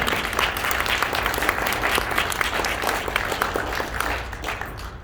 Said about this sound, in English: So why don't we give a round of applause for Mr.